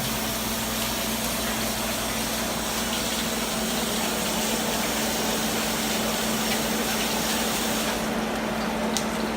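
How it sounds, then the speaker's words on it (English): A steady, loud rush of running tap water pours continuously while hands are washed in a home kitchen, with a low hum underneath and no talk. "I'm going to wash my hands again"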